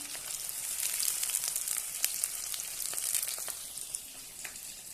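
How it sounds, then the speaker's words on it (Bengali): Squeezed, salted banana stem drops into a hot kadai and sets off a soft, steady frying sizzle with scattered crackling pops, fairly faint and close, with no one speaking. "এভাবে নিংড়ে এই কড়াইতে দিয়ে দেবো।"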